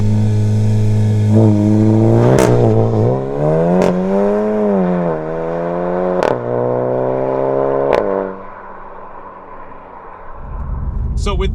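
Golf GTI MK7.5 fitted with a Remus exhaust revs hard under launch, its engine note climbing and dipping through several loud surges before easing off, with sharp crackles between pulls and a brief burst of wind or movement at the end.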